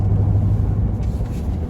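Steady low rumble of a 2019 Toyota Tundra TRD Pro pickup on the road with a new teenage driver at the wheel, a continuous engine and road drone heard from inside the cab.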